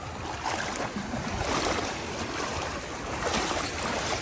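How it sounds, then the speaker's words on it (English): Small waves lap and wash steadily in the shallow waters of Bacalar Lagoon in México, a broad continuous watery rush near the listener with no voices. "Waves. Holy waves, where'd those come from?"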